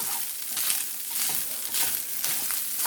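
Hot sausage frying in a pan for biscuits and gravy, a continuous crackling sizzle with small popping spurts, close and steady.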